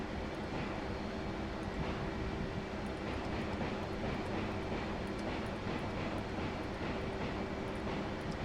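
F/A-18C jet engine in DCS World throttled back, a steady broadband roar with a faint tonal whine, constant and moderately quiet throughout with no talk.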